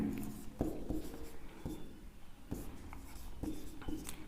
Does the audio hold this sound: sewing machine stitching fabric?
no